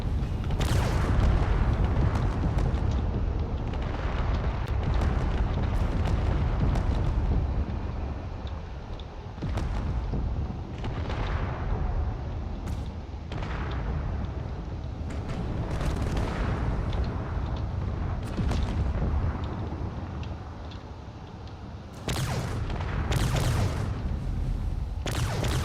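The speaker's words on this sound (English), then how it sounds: "There it goes. Just one big explosion." An aircraft carrier exploding under a missile attack in a combat video game, heard as a sustained barrage of deep booms, blasts and crackling impacts rolling continuously for over twenty seconds, loud and dense.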